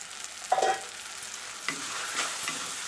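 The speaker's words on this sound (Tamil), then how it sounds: "தக்காளியை போட்டு தக்காளியோடைய பச்சை வாசனை போக நல்லா இதில் வதக்கிப்போம்." Ground tomato paste sautés in a hot pan for a meal maker gravy, giving a soft steady sizzle with a brief stirring scrape near the start and faint stirring later.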